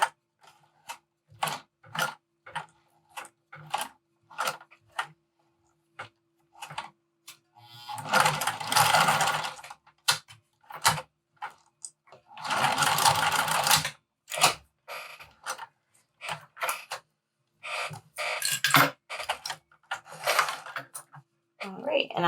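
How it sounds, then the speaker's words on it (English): Home sewing machine hand cranked through a thick fabric strap for a wristlet, giving close rhythmic ticking stitches with a few louder bursts of mechanism noise, while a person talks intermittently. "since it's so thick there, I'm just gonna hand crank it to help my machine."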